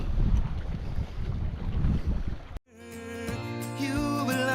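Wind gusting across Diablo Lake in North Cascades National Park while kayaking, a loud rough rumbling roar for a few seconds that cuts off abruptly and gives way to music.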